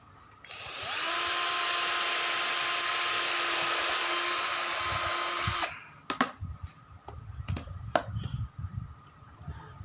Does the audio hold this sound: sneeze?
no